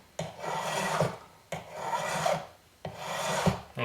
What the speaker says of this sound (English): I want to file down each side and then sand it